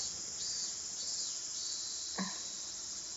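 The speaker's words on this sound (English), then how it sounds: "that noise in the background is the higurashi" Evening cicadas (higurashi) in a video game drone in a steady, high-pitched chorus that fills the whole stretch, with a brief soft chirp rising out of it partway through.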